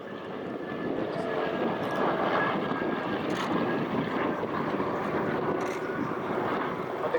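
An electric-powered de Havilland Beaver floatplane flies past at an air show, giving a steady, moderately distant engine drone that holds evenly throughout.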